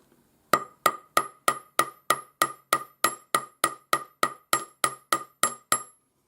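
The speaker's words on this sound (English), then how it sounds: "I'm going to hammer on the end using the slightly rounded surface of my planishing" A planishing hammer strikes the end of a metal wire for a ring about sixteen times in a steady, even rhythm, each blow a sharp close metallic tap with a brief ring.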